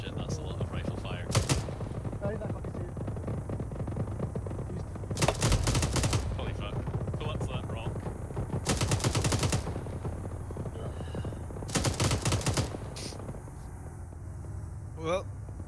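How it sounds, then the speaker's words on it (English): Rifle and machine-gun fire crackles in a military shooter game, coming in several long dense bursts, with a voice talking over the quieter stretches between them. "that's a lot of rifle fire"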